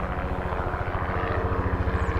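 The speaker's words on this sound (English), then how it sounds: "Lots of helicopters though." A helicopter flies over Governor's Island in New York Harbor, its rotor a loud, continuous pulsing chop with a deep throbbing rumble throughout.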